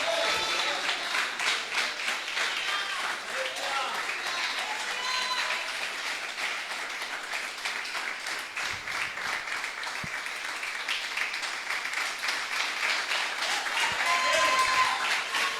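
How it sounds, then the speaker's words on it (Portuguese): A church congregation claps together in sustained, dense applause that runs evenly from start to finish, loud and close, with faint voices mixed into the crowd noise. "Você pode bater palma e dar glória."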